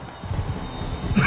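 A horse whinnies in the medieval combat video game Mount & Blade II: Bannerlord, a brief, loud neigh over dense battle noise, with no talking.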